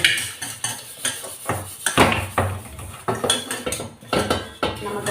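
Big kadai pans and other large metal vessels are washed in a small zinc sink, with irregular loud clanks, scrapes and knocks of metal on metal close by.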